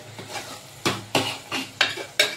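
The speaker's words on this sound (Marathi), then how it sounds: "आता वास ओढेपर्यंत पूर्ण आपल्याला तिला हलवून घ्यायची आहे।" Hotel-style pav bhaji vegetables and masala being stirred in a pan: a rhythmic series of about five loud scraping clanks of a spoon against the metal, evenly spaced over a faint sizzle.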